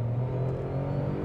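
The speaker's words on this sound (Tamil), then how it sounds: "இப்போ ஃபஸ்ட் கியரில் ஒரு த்ராட்டில் நம்ம கொடுக்கலாம்." A 2025 Tata Altroz engine held on throttle in first gear, a steady low droning rev heard from close up, continuous and fairly loud with no talking over it.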